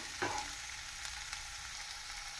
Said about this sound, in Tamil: நாம் வெங்காயத்தை பொன்னிறமாக வதக்க வேண்டும்.